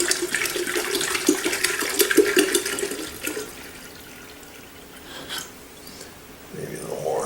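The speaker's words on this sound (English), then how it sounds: "take your gallon jug and pour about half of that" Water pours in a steady stream from a gallon jug into a kettle, then tapers off into quieter trickles and splashes before a final gush near the end.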